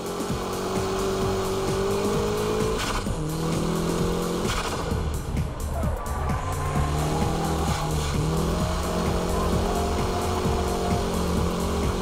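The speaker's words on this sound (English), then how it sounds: "Show drifts keeps drifting from the entrance to the exit." Car drifting through the Ebisu circuit, with show drift laps held from corner entry to exit: a loud, continuous engine roar rising and falling, overlaid by tire squeal, close and with no talking.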